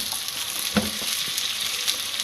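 Tomatoes and green chillies fry in a pan for butter chicken, a close, continuous hiss of sizzling oil with a few soft stirring knocks, no voices over it.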